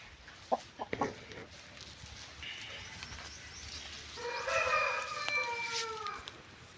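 Orugu chickens cluck in short sharp bursts, then a rooster crows loudly nearby in a long drawn-out call.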